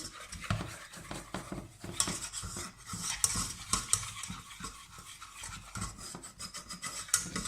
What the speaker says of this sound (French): On va donc vite ajouter la farine et remuer pour faire ce qu'on appelle un roux